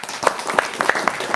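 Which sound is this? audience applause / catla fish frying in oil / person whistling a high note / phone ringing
audience applause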